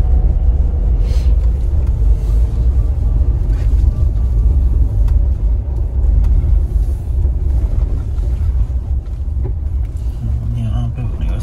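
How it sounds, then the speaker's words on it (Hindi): A 4x4 vehicle grinds up a steep, black-ice-covered stretch of the Leh–Manali Highway in extreme winter cold, its engine a heavy, continuous low rumble with wind buffeting the microphone and occasional voices murmuring inside the cabin. "वो देखते हैं वहाँ पर कैसे चढ़ती है गाड़ी।"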